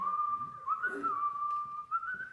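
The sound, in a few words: person whistling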